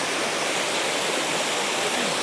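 Small waterfall at Chandranagar, a dense, even rush of falling water heard up close, loud and unbroken, with no one talking.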